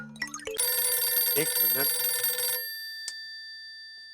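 A telephone bell rings loudly in a steady, continuous trill for about two seconds and then cuts off abruptly, followed by a single short tone; a voice speaks briefly just before the ringing starts.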